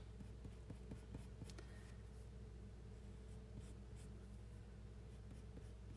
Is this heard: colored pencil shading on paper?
yes